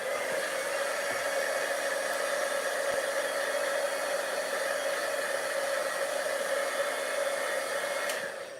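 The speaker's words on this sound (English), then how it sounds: "what you can do is take your heat gun. I'm just going to make sure it's dry" A heat gun blows steadily to dry alcohol marker ink, a loud, even whooshing hiss that runs close and unbroken for several seconds before cutting off at the end.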